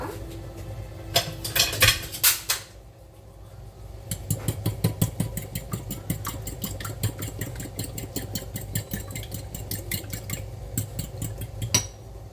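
Green beans and a splash of milk are mixed in a pan, giving a quick run of close clattering scrapes, then a long, even rhythm of utensil ticks against the metal.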